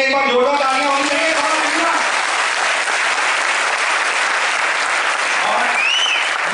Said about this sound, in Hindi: तो मैं चाहूंगा इन लोगों के लिए एक बार जोरदार तालियां होनी चाहिए।